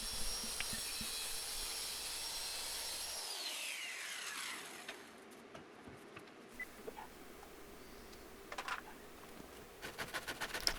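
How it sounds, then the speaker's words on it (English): A circular saw runs along a straight edge through an old wooden dresser, a high, steady whine that winds down and fades after about three seconds, followed by quieter scattered clunks and handling noises. "I'll just threw a straight edge on it and run the circular saw down it."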